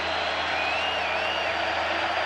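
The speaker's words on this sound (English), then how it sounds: "the crowd's going to be loud" Stadium crowd in NCAA Football 2025 at an FCS playoff game, South Dakota at Montana, a steady loud roar of many voices with no breaks, filling the space evenly throughout.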